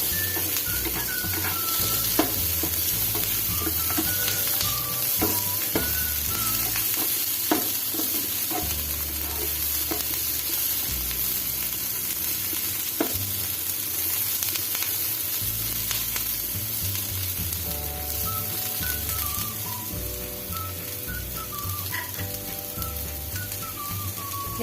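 Eight to ten garlic cloves sauté in a pan until brown, giving a steady, dense sizzle that stays close and loud throughout, with occasional stirring clinks and no talking.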